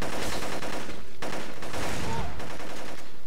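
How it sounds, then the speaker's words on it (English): Gunfire in the PS2 shooter Black, with bursts of broadband shots and rattling fire filling a few seconds of loud, dense game action. "Who's shooting at me?"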